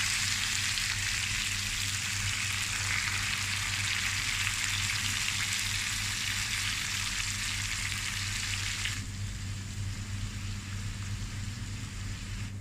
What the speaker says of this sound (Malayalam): വറുത്ത് കോരാനുള്ള ഉള്ളി ആഡ് ചെയ്യുക.